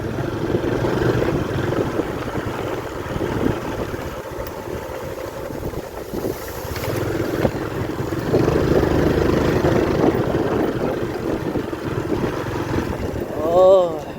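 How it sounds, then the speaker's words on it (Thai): Strong wind roars steadily and loudly into the microphone outdoors, a continuous rushing that surges midway, while people talk underneath. "ลมหึ่น"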